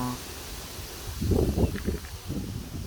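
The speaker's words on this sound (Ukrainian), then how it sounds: "Дуже сильний вітер." Strong, cold gusty wind buffets the microphone with a low, rumbling roar that swells after a quiet start and keeps surging in uneven bursts, near a swaying, creaking birch.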